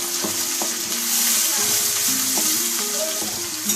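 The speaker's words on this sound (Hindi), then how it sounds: "इसको लाइट ब्राउन होने तक आपने फ्राई करना है।" Chopped onions sizzling in oil in a hot pan while preparing a mixed vegetable dish, a steady loud hiss with scattered clinks and scrapes of stirring, and no voices.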